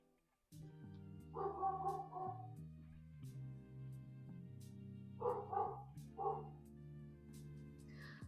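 A dog barks at an Amazon delivery arriving, several bursts of yapping at about 1.5–2.5 s and again near 5.5–6.5 s, fairly close, over a steady tonal hum in the room.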